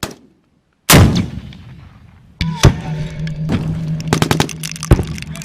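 An anti-tank missile launches with a loud, sudden blast and back blast, then a sustained rushing roar with further sharp cracks as the rocket flies off.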